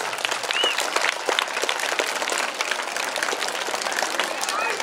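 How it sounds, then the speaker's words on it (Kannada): Applause for Father Nelson at an annual school sports day at Loyola and Sacred Heart Schools, Shivamogga: a large outdoor crowd claps steadily and loudly throughout, with voices mixed in. "ಅವರಿಗೆ ದೊಡ್ಡ ಚಪ್ಪಾಳೆ"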